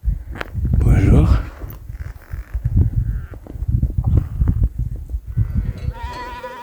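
Sheep bleating repeatedly from a flock on an Alpine mountain trail in July, loud and close, with footsteps on the path and a few other bleats trailing off.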